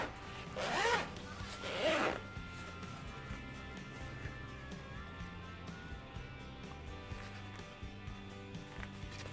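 A zipper pulled along a handmade thermal lunch bag in two quick, close strokes, each a bright, raspy burst, followed by quiet room noise with faint handling.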